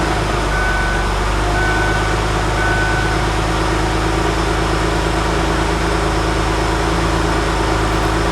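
A Ford Taurus with a stock muffler idles close by, a steady, smooth low engine drone that holds even throughout, with a faint repeating beep in the background early on.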